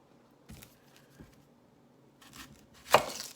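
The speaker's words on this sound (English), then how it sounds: "we'll go ahead and start cutting the onions next" A knife chops onions on a cutting board in a home kitchen: a few sparse, soft taps, then a sharper, louder cut near the end, in a quiet room.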